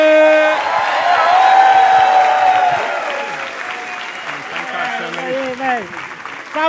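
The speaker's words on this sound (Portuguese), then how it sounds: "Recebam com muitas palmas o comediante que vocês vieram ver, Daniel Duncan. Palmas pra ele!" Loud applause and cheering fill a Brazilian stand-up comedy venue as comedian Daniel Duncan is welcomed on stage, with voices calling out over the clapping before it thins toward the end.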